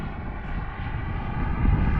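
RC jet Global Jet Club Hummingbird with an ACEx-80 turbine making a high-speed pass, a steady roaring rush that swells slightly louder toward the end, heard from a distance.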